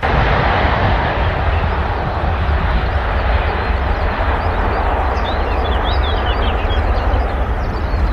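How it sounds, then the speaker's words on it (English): An Airbus A350 jet takes off while suffering an engine failure, producing a loud, steady, broadband roar that holds without letup from start to finish, with no voices. "This A350 struggled with an engine failure during a takeoff."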